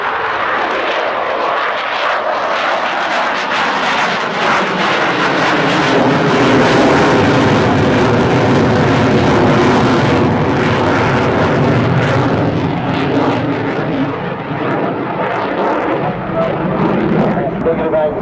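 A Boeing F/A-18 Super Hornet fighter jet roars loud and continuous through an airshow flypast at Farnborough, a heavy rumbling engine wash that swells and holds, with a commentator talking over it.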